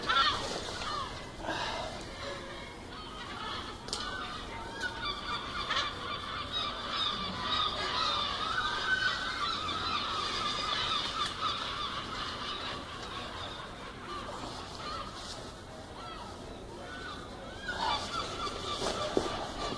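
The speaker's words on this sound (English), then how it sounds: "Those seagulls are a nightmare." Seagulls call and honk repeatedly through a windy outdoor scene where a car's cam and timing belt is being changed, the cries fairly loud and overlapping, with no talk.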